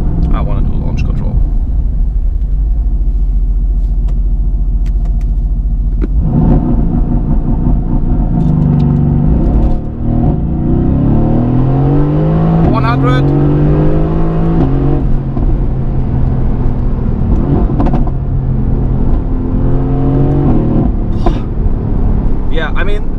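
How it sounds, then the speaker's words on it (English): A 2018 Mercedes-AMG GT with a 612 hp engine roars loudly in launch control acceleration, the note climbing in rising sweeps through several gears, nearby and continuous, with someone talking over it. "Maybe we do launch control here."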